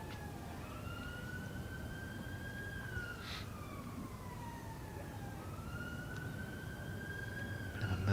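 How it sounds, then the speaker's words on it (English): Two emergency vehicle sirens wail in the distance near a cricket ground during a Yorkshire vs Warwickshire county match, their rising and falling tones drifting over a steady, low background rumble. "emergency service activity around the ground, as you can hear. 2 sirens in the background."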